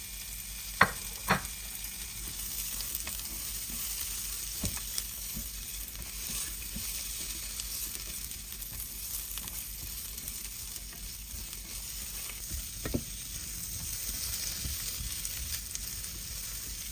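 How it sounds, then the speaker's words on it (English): Carrots sautéing in oil in a pan for a shrimp stir fry, a faint, continuous sizzle running throughout with a few light clicks of utensil against pan, no voices. "Add the carrots. Saute for 1 minute."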